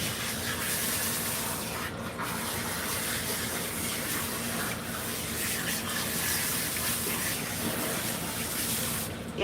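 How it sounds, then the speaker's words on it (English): Running water pours steadily over a Maine Coon cat during a bath, a loud continuous gushing rinse close by with little variation throughout. "It just needs an extra rinse."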